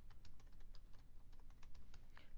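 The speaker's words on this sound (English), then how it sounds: "I want you to type your name" Keys clack on a computer keyboard in a quick, uneven run of light taps, faint and close over a low steady hum.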